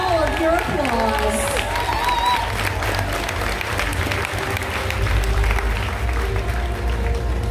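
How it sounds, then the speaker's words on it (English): A convention crowd applauds a dragon cosplayer at a cosplay competition on stage, steady clapping and some cheering filling the hall, while a person talks over it early on. "Give this beautiful dragon all of your applause."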